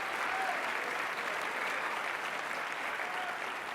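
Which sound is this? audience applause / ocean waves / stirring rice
audience applause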